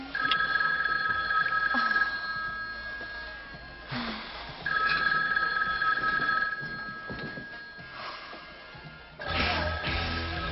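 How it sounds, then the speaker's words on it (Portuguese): Telephone ringing in a dubbed comedy film, loud electronic trills in three long bursts separated by short gaps, with faint background sounds between them. "Telefone!"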